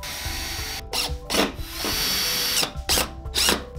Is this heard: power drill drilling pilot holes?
yes